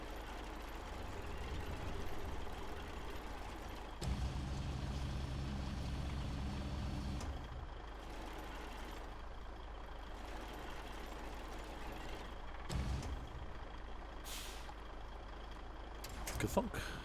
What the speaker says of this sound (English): we'll have to move the truck around